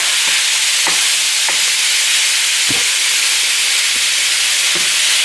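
Sausage and ground beef browning in a one-pot lasagna, with a steady broadband sizzle filling the whole stretch and occasional soft stirring scrapes on top, fairly loud and close, no talking.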